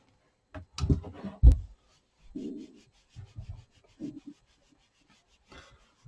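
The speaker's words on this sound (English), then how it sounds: "Now you can mark the centers with your marking pen" Marking pen drawing on quilt fabric, a few short scratchy rubbing strokes close by with pauses between them, faint and intermittent against near silence.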